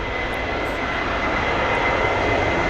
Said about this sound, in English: Now, you mentioned before the little Phenom. You might just catch a glimpse of it taxiing out there.